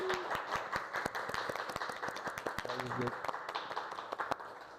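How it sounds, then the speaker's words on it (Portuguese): A small audience at an artists' talk claps for a baby, with sparse, uneven individual claps spread over several seconds and faint voices talking underneath. "vamos dar uma salva de palmas para o bebê"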